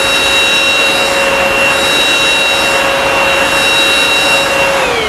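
Eureka Rapid Clean Pro cordless vacuum running over carpet, a loud, steady motor whine with a high tonal hum that holds level and dips slightly in pitch at the end.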